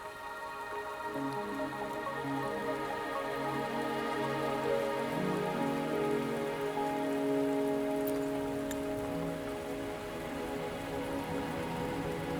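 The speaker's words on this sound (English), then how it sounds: "Are you trapped here by the rain?" Steady rain pours in the video game Wuthering Waves, an even, continuous patter on surfaces with layered ambient music tones beneath it and no voices.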